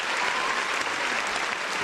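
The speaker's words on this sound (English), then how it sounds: "Round of applause for MMAnomaly there, the great moves." Studio audience applause ringing out steadily for a mixed martial arts commentator on a UFC reaction show, dense clapping, loud and sustained throughout with no voices over it.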